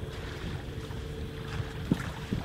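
Strong wind buffets a phone microphone at a sandy beach during water metal detecting, a steady broadband rush with a few brief gusty thumps and no talking.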